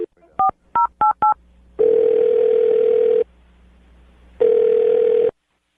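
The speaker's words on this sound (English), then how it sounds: "I'm going to dial her phone number right now" Touch-tone phone dialing during a radio show call: four quick dual-tone beeps in a rapid burst, then two long, steady ringing tones separated by a pause, clear and close with no talking.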